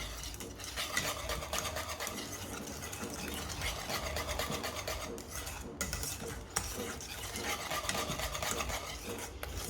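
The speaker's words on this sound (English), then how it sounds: "and stir them in" Butter, lemon zest and egg yolks being stirred into a hot, thick lemon mixture in a kitchen, a faint continuous scraping and swishing of a utensil against the pot.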